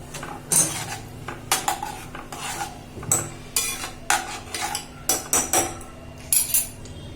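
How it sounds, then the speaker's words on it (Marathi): A metal spoon stirring dal in a pot just after hot water is poured in, with repeated sharp clanks and scrapes against the pot in an uneven rhythm, loud and close with no speech. "पाणी ओतल्यानंतर छान हलवून घ्यायचं"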